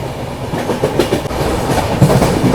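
The Mahakoshal Express rolls along the rails with a steady, close clickety-clack of wheels over rail joints and a continuous low rumble, no voices.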